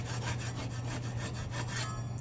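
Quick repeated scraping strokes of a putty knife across drywall ridges, close and rhythmic, with a low steady hum underneath.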